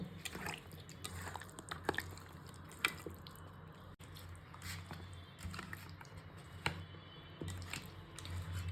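Chicken pieces are worked by hand in a yogurt and salt marinade, making steady, soft, wet squishing and squelching up close, with small sticky taps and drips throughout and no talking.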